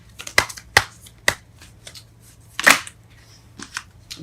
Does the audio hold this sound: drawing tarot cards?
yes